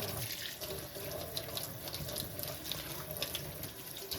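A kitchen tap runs steadily into a sink while collard greens are washed, making a continuous hissing splash with small irregular spatters throughout, close and moderately quiet, with no voices.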